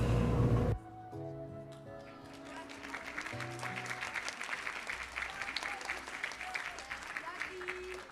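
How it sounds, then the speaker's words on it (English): Steady applause from a crowd at a school graduation, many hands clapping at once, sustained and fairly loud after a brief burst of music at the start. "give another big round of applause to our 5th grade boys"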